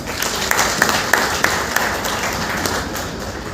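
Steady applause from an audience at a book launch welcoming a guest, with dense clapping throughout and a few sharp, rhythmic claps standing out near the start, under faint voices.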